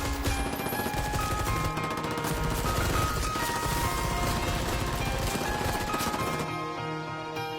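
Film gunfire as a group of enemies fire pistols at victims in the dark: dense, rapid shots blend with music in a loud, sustained barrage that drops away near the end.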